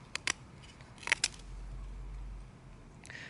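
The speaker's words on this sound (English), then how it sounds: "I'm just gonna cut it off right around here" A bamboo stick is cut off with a few sharp snips and crunches, close and crisp, followed by a brief low rustle.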